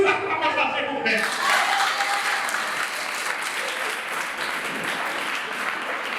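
Congregation at a wedding blessing bursting into loud, sustained applause that follows a brief stretch of speech and continues evenly to the end.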